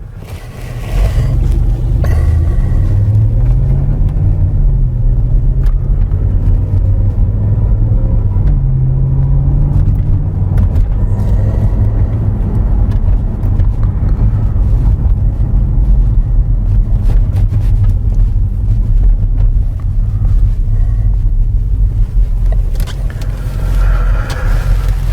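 A 2013 Land Rover with a 5.0L V8 pulls hard under load on a test drive, its engine drone loud and steady throughout with slight pitch rises, heard from inside the cabin with no talking.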